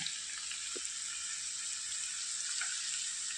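Dried prawns sauté in a pan over a very low flame, with a steady, even sizzling hiss close by and no other sound.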